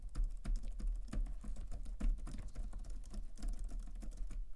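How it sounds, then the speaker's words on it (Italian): Typing on a computer keyboard in a room treated with sound-absorbing panels, with a quick irregular run of crisp key clicks and a few heavier thumps, fairly close and heard on its own. "Adesso provo a digitare sulla tastiera."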